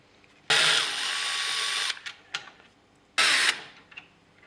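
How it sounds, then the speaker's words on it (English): Power tool driving out the bottom black screws on a Yamaha Ténéré 700 motorcycle: two loud, close bursts, the first about a second and a half long and the second shorter, separated by light clicks and handling noise. "We need to take out this bottom black screws."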